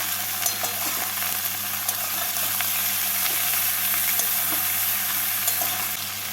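Potato, eggplant and radish pieces fry lightly in a pan, giving a steady, even sizzle that runs throughout with faint stirring clicks and no voices.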